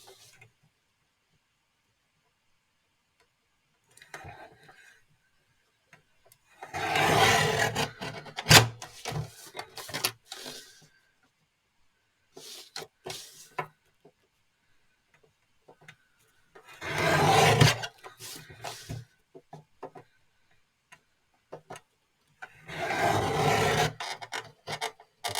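Paper card being trimmed for embossed greeting cards, heard as three separate rasping, scraping strokes, each lasting a few seconds, with near quiet between them and no talking.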